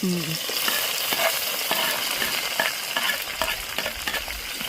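Onion, green chilli and curry leaves fry in hot oil for tomato rice, a steady close sizzle broken by frequent light clicks and scrapes of a stirring spoon, with no talking.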